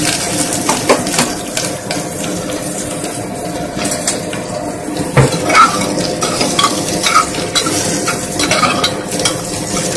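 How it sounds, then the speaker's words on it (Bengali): Potatoes frying in a pan for a Bengali dalia vegetable dish, with steady sizzling and repeated close scraping and stirring of a utensil against the pan throughout, no talk. "একটু নেড়ে ভাজা ভাজা করে নেব"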